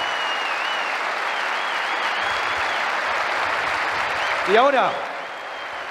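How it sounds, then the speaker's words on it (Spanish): A large stadium crowd at a 2021 tribute event for Bochini applauds in a steady, distant wash of clapping and cheering beneath someone speaking Spanish over the PA, with a brief whistle-like tone near the end. "toda esta gente que te va a dar este aplauso por todo"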